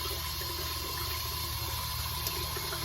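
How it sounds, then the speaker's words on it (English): Tap water runs steadily into a bathroom sink during a shave, making a constant close rushing flow with an even level and no talk over it. "Keep that water up the sink just a little bit"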